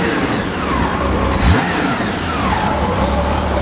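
A 1995 Honda Goldwing GL1500 motorcycle with 59,400 miles runs steadily at close range, a loud continuous engine drone with a brief rev rise in the middle and no talk.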